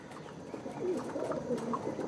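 Small Andhra and Madrasi pigeons give soft, low cooing in a brief, continuous murmur close by, with no one speaking.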